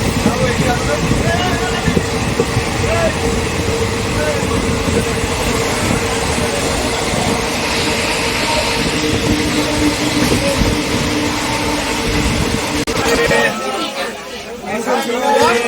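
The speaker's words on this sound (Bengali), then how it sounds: "আমাদের ট্রেন এখন দাঁড়িয়েছে বর্ধমান জংশনে" A passenger train halted at Bardhaman Junction carries a constant din of platform and carriage chatter, vendors and rail rumble, with people talking close by throughout.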